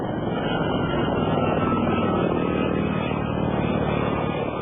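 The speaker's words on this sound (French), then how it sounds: "Depuis le ciel, des hélicoptères de l'armée française tirent sur les manifestants des civils." French army helicopters fly over civilian protesters, their rotors making a loud, steady, continuous drone that fills the whole stretch without a break and carries no voices.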